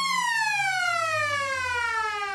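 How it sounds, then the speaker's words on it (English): A ground siren sounds to start play at an Australian football match, East Point against Sunbury: a single loud, sustained wail whose pitch slowly slides downward, with faint crowd murmur underneath. "The siren sounds to get play underway"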